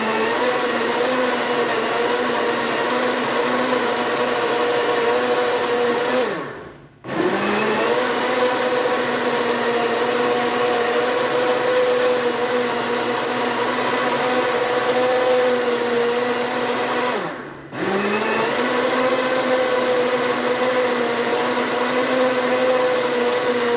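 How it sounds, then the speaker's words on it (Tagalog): A blender whirs loudly and continuously while blending aloe vera gel, its motor cutting out briefly twice before spinning back up, with no talking. "I-blender ko na siya."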